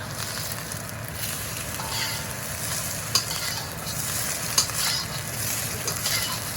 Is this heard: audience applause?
no